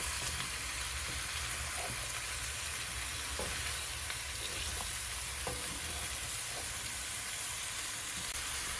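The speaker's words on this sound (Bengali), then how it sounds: "সবজি এবং মশলা একসাথে কষানো হবে" Potatoes and pointed gourd cook down with spices in a pan, a soft, steady sizzle with occasional faint stirring taps, fairly quiet and without speech.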